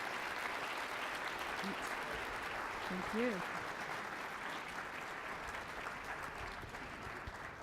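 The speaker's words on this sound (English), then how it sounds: "can we all give TC a big round of applause?" A keynote audience at the 2017 AEE conference gives steady, sustained applause that fills the room for several seconds, with a brief spoken thanks heard partway through.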